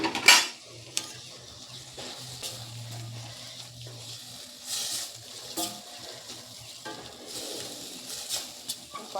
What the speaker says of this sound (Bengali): সব মশলাটাকে কিন্তু ভালো করে কষিয়ে নিতে হবে।